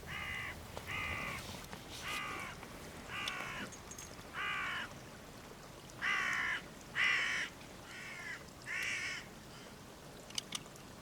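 A crow caws repeatedly outdoors, about ten harsh, evenly spaced calls, moderately distant and clear over quiet background.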